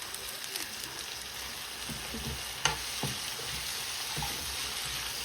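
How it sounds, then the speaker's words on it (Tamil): Green chillies and curry leaves fry in a pan of oil for a prawn curry. A soft, steady sizzle with a few light clinks and scrapes, close and quiet. "இப்போ நான் இதில் பச்சை மிளகாய் கருவேப்பிலை எல்லாம் வந்து இதில் நான் சேர்க்குறேன்"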